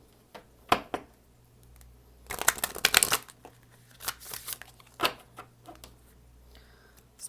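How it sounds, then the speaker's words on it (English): Tarot cards being shuffled close by: a few quick riffles and taps at the start, then a dense burst of shuffling, followed by scattered flicks and softer shuffles against a quiet background. "Three-time shuffle."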